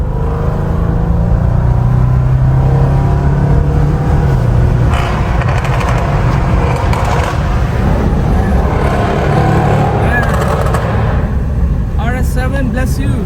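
A 560 HP Audi RS7 V8 driving on city streets in China, its deep engine roar and rumble loud and continuous from inside the car, swelling as it pulls, with a voice speaking over it.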